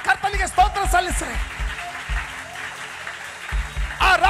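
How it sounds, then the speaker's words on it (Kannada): A church congregation clapping loudly in praise to the Lord during a Kannada sermon, a dense burst of clapping framed by the preacher's voice before and after it. "ಎಲ್ಲರೂ ಕೂಡಿ ಗಟ್ಟಿಗೆ ಚಪ್ಪಾಳೆ ತಟ್ಟಿ ಕರ್ತನಿಗೆ ಸ್ತೋತ್ರ ಸಲ್ಲಿಸ್ರಿ."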